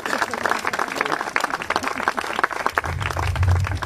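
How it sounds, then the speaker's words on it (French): An audience at a Guadeloupe freedom-remembrance ceremony applauds the artist Dimitri Fagoun, steady warm clapping from many hands that holds throughout, with some voices underneath. "Merci encore à l'artiste Dimitri Fagoun, qu'on peut applaudir très chaleureusement."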